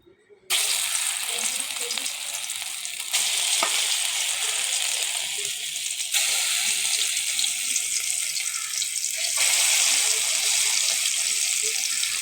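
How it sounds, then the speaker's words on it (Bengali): Cauliflower florets drop into hot oil and sizzle loudly and steadily up close, a dense crackling fry that holds for the whole stretch, with a voice talking quietly at moments. "এখন আমি ফুলকলিগুলি ভেজে নেব।"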